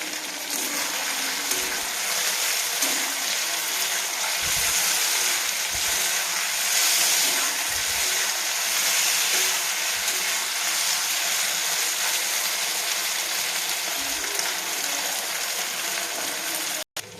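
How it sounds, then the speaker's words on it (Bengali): Soybean chunks fry in hot oil with a dense, continuous sizzle and bubbling that hold steady for about seventeen seconds, then stop abruptly. "এবারে সয়াবিনগুলোকে ভালোভাবে লাল লাল করে ভেজে নেব।"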